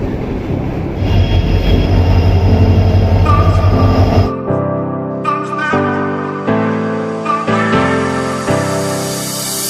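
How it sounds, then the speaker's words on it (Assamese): The Amarnath Express rolls into a station platform, loud and close, with a heavy rumbling approach, then squealing wheels and a rhythmic series of clanks and clicks as the carriages pass and slow. "अमरनाथ एक्सप्रेस प्लेटफॉर्म नंबर 1 पर आ रही है"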